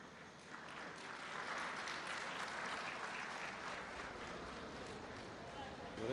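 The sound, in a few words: audience applause at a ceremony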